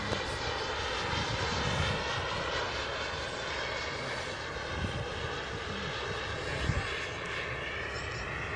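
Sebart Avanti model jet powered by a mini turbine engine flying overhead, a steady loud whine with slow shifts in pitch as it passes, continuous throughout.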